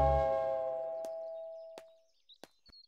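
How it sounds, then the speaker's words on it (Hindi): Doorbell ringing in a Hindi-dubbed movie scene: a sustained electronic chime tone that fades out, followed by several sharp, separate strikes, with no talking. "डोरबेल बजाई"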